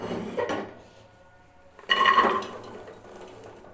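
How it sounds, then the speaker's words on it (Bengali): Chalta pieces dropped into a pressure cooker in a quiet kitchen, two short clattering thuds of fruit hitting the metal pot about a second and a half apart, each followed by a brief rattle. "প্রেশার কুকারে দিয়ে দিলাম।"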